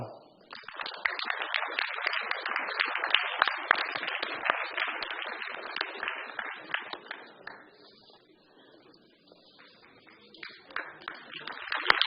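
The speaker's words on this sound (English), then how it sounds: "Big round of applause to all our graduates" Sustained applause from a graduation ceremony audience at an MSc commencement in a hall, dense clapping that swells, thins out toward the end, then picks up again briefly.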